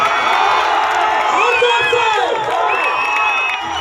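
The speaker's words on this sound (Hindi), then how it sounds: "एक जोरदार हल्ला करके ताली" A large audience at a live stage show cheers and claps loudly, with whoops and shouts rising over a thick, continuous roar and sustained applause.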